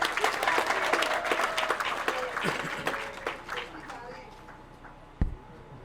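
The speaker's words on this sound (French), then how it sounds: "Applaudissez pour Bois-Nébois." A crowd claps at a village women's-day launch celebration outdoors, loud sustained applause with a voice over it, fading out and ending with a sharp thump.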